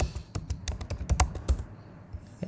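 Rapid typing on a computer keyboard, a quick run of close, crisp key clicks in uneven bursts, which slows and thins to a few taps near the end.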